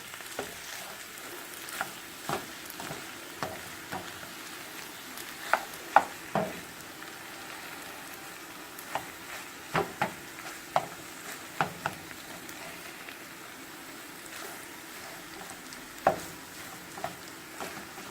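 Eggs, cheese and cauliflower rice cook in a covered pan, a faint low sizzle with scattered soft clicks and knocks spread over a long stretch, quiet and without speech.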